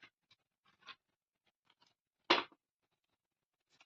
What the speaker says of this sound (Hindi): गाइस, कार्ड्स बहुत दूर दूर गिर रहे हैं।